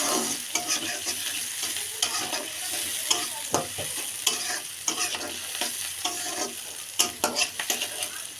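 Chopped onion and green chili fry in hot oil under a steady, bright sizzle, punctuated by regular spatula scrapes and clinks against the pan; no voices.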